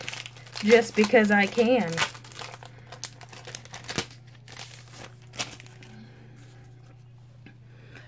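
A handmade greeting card crafted from re-used materials is opened with crinkling and rustling of paper, beginning under a short spoken line and continuing with scattered soft crackles and taps afterward.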